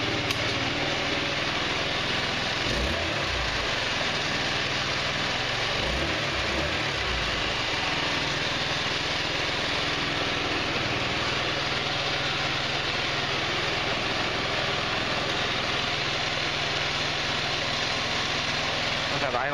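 A GY6 150cc scooter engine idles steadily at a slightly high speed after a valve adjustment, a continuous close hum running through the whole stretch with a few brief lower rumbles near the start.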